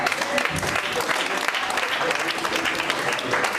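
Church congregation applauding during a sermon, a dense, sustained wash of clapping from many hands that holds steady and fairly loud throughout, with some voices mixed in.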